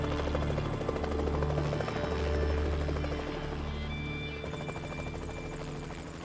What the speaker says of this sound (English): we have to like straighten the helicopter and then keep it up like that for a few seconds